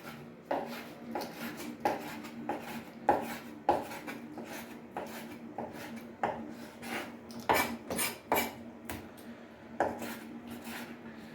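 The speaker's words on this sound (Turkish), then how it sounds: "Şimdi biz ciğerlerimi şöyle jülyan jülyan doğrayacağım." A knife chops liver into julienne strips on a cutting board, quick even strokes repeating at a close, quiet level with no talking.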